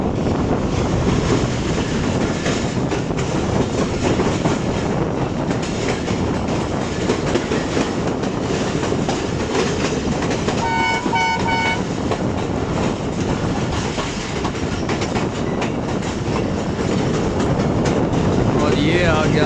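An express passenger train departing a station in Pakistan rumbles loudly and continuously, with steady clattering of wheels over rails and wind buffeting the microphone throughout.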